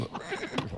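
A horse in a comedy film scene gives a brief, close whinny lasting under a second.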